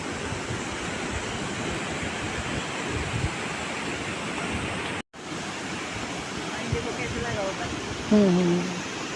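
A mountain waterfall in Himachal gives a steady, loud broadband rush that fills the whole stretch, briefly cut out midway, with faint bird-like chirps near the end.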